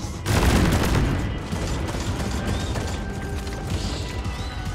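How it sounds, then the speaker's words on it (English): Fireworks go off in a video game, a sudden loud burst followed by dense, continuous crackling and rumbling explosions that stay steady and close throughout. "Fireworks!"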